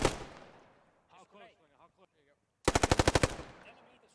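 Machine gun fire in the video game Post Scriptum: a loud, fast burst of about eight shots near the end, after a fading echo and some brief talk.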